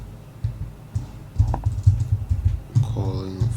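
Clicky taps on a computer keyboard while writing a code comment, irregular bursts of keystrokes close up, with someone speaking briefly near the end.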